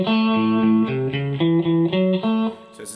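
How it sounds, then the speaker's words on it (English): An electric guitar with slight distortion plays a riff in A, a bouncy repeated pattern of plucked notes and short slides, loud and alone. "we then step up to play the same groove but in A."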